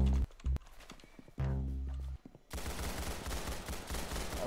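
Gunfire from a pistol in the Roblox shooter game Arsenal: a few sharp isolated shots with silence between, then a dense burst of rapid, noisy shooting and game sounds filling the rest, no talking.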